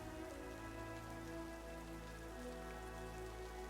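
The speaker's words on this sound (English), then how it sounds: "listening with soft focus to the sound of rain plummeting down outside the window" Rain falls steadily outside a window, a soft, even patter with a faint low hum beneath it, continuous throughout with no voices.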